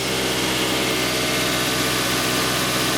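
A car engine is held just off idle during a vacuum leak check, giving a steady, loud, even drone with constant low rumble and no change in pitch for the whole stretch.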